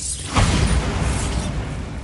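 A Bombarda blasting spell explodes in Hogwarts Legacy with a loud, close burst and a rumbling boom that rolls on and slowly fades, with no voices over it.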